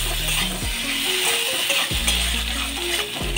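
Spices and pastes such as coriander paste are stirred in a hot pan for pumpkin curry, giving a steady, loud, close sizzle with occasional scraping strokes over a low hum.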